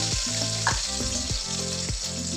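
Cumin and mustard seeds with curry leaves sizzle and crackle steadily in hot oil in a pan, a loud continuous fry with occasional stirring scrapes and no talking.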